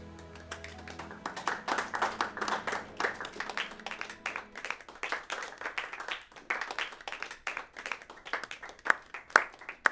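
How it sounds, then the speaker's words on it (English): Audience applause, many hands clapping in a dense burst that thins into scattered, sharper claps toward the end. "You're clapping. You're all clapping."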